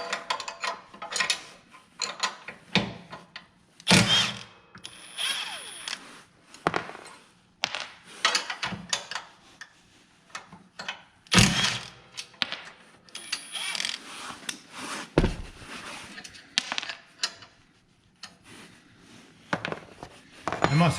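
Bolts being worked loose and pulled from a metal plate on mulch equipment, a string of sharp metallic clanks, ratchet clicks and scrapes in uneven bursts, close and fairly loud, with no talking.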